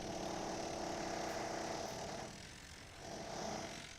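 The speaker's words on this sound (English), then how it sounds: "I'd really like to know why he's drilling holes in my castle." Steady mechanical drilling into a castle wall in Black Mirror 3, a continuous whirring grind that runs loud, dips briefly, then swells again, with no one talking.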